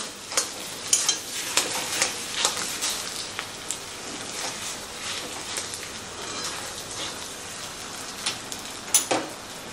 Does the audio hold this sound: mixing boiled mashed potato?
yes